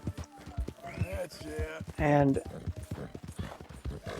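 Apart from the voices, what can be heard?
riding horse hooves clip-clopping in the video game Red Dead Redemption 2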